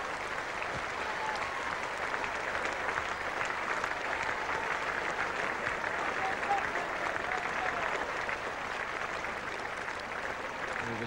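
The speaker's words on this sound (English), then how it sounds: "Standing ovation for the England captain, who is within touching distance of his second victory in the series." Standing ovation for the England captain at a 1977 England v Australia cricket Test, a broad, sustained wash of crowd applause filling the ground for the whole stretch, steady and dense without pause.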